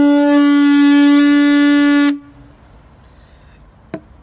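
An ancient horn, the ancestor of brass instruments, sounds one loud, steady, buzzing note for about two seconds, then stops abruptly, leaving quiet room tone and a faint click.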